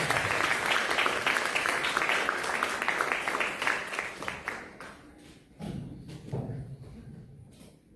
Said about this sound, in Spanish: le recibamos con un fuerte aplauso